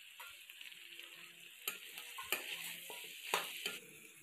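Garlic, ginger and chopped green chillies stir-fry in a pan for pork curry, a steady close sizzle with a few scraping stirs and clinks breaking through.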